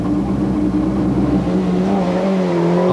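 A Peugeot 309 rally car pulls away on a night rally stage, its engine droning steadily and climbing in pitch as it accelerates, close and loud.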